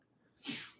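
One quick sneeze, fairly soft and close, bursting out after a brief quiet moment.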